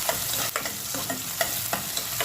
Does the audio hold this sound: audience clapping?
no